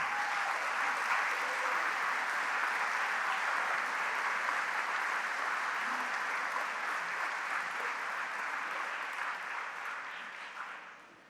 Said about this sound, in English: Please join me in a round of applause for the current Hall of Famers who have returned for today's